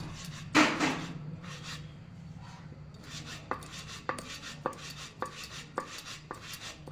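Knife chopping pieces for chushi payesh, a Bengali sweet: one heavy thump near the start, then a steady run of crisp, evenly spaced cuts against a board, close by with no talk.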